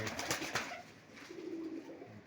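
Pigeons, old birds and youngsters kept at a loft, coo softly in a low throaty murmur, a few close calls over faint background noise.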